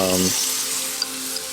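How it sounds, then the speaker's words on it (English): Chicken thighs sear in a hot pan, a steady bright crackling hiss, with a brief voice at the very start. "That just sounds nice, doesn't it? The searing sound."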